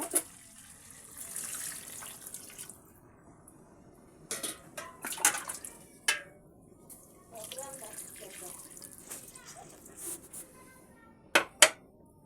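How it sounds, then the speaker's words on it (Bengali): Hot water poured into a pot of simmering beef curry with vegetables, heard as a few short splashing bursts and a running pour amid quieter kitchen background. "গরম পানিটা এখন আমি দিয়ে দেব"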